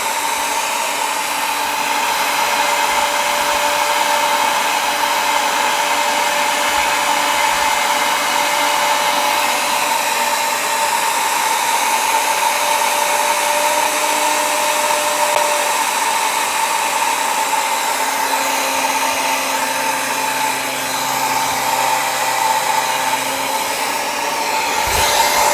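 A Gorilla G3 dust collector runs with a steady, continuous airy whoosh and a faint motor hum, constant and fairly loud throughout with no talk.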